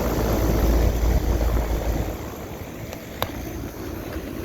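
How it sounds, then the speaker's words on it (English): ICP air conditioner condenser units outside a hotel run with a steady, loud whooshing fan drone and low rumble, one unit fitted with helicopter-style fan blades, with a brief click partway through. "This one has helicopter fan blades."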